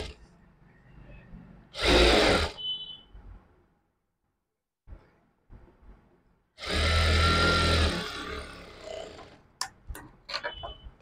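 A sewing machine stitches fabric in two bursts of rapid, rhythmic mechanical chatter, one short and one longer, with quiet pauses and light handling clicks around them.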